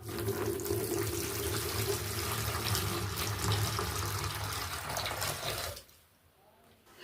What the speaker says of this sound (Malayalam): ഒരു പാത്രത്തിലേക്ക് ഇട്ട് അതിലേക്ക് കുറച്ച് വെള്ളം കൂടി ചേർത്ത്